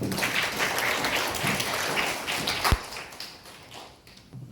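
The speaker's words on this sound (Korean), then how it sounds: "박수 부탁드립니다." Audience applause at a school English department parent program, a steady wash of clapping that gradually thins and fades toward the end, with one sharp tap partway through.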